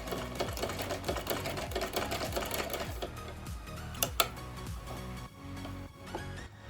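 A sewing machine stitching a kids' summer dress (jhabla) whirs in a rapid, steady mechanical chatter, close and continuous before slowing near the end, with a couple of sharp clicks.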